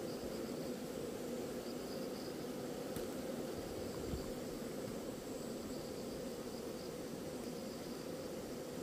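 A steady, dense hum of ground wasps circling a wasp trap at an apiary, an even, unbroken buzz at a moderate level with no voices.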